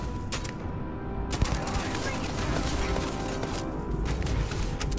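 Rapid gunfire in the sci-fi game Starfield, a steady rattle of shots with a few sharper cracks standing out, running throughout under continuous game noise; a voice talks faintly beneath.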